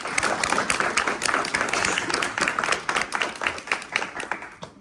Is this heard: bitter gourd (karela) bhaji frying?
no